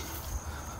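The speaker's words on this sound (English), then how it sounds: "Cicadas are everywhere." Cicadas drone outdoors beside a 1987 Fleetwood Prowler camper, a faint, steady high-pitched buzz that holds unbroken throughout, with no talking.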